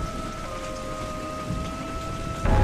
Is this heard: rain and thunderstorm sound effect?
yes